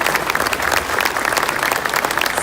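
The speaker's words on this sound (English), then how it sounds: "how about a round of applause for all of our educators and students here" An audience at a South Houston High School ceremony applauds educators and students, a steady, dense wash of clapping from many hands lasting the whole stretch.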